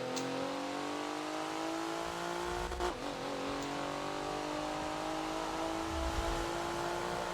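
Race car engine accelerating in Forza on the Rio circuit, a loud sustained engine note climbing steadily in pitch with a brief shift-like dip partway through, no talking.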